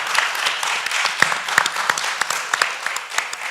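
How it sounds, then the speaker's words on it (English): An audience applauds steadily for a guest named Andy in a recovery show studio, dense clapping with a few sharper nearby claps throughout. "Ladies and gentlemen, give Andy a nice round of applause."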